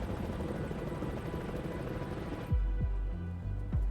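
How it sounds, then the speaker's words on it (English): A helicopter flies during snap-and-fly heli logging, its rotor beating in a loud steady churn, then shifting into deeper low thumps and whooshing passes as it manoeuvres; no voices. "Snap and fly heli logging."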